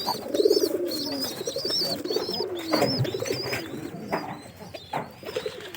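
Pigeons cooing in a loft, breeding birds of a large pigeon breed, with repeated low throaty coos rising and falling close by, overlaid with high chirps and rustling from other birds throughout.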